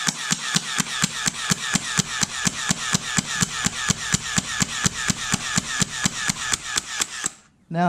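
A gel blaster loaded with fully grown gel balls fires on rapid fire: about thirty sharp, evenly spaced snapping shots at roughly four per second, loud and close, then the volley stops abruptly.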